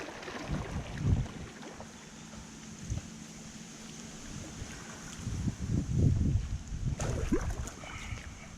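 Paddling a small boat through flood water from a tropical storm up into a grassy yard, with soft water sloshing and intermittent louder splashes and strokes near the microphone over light wind.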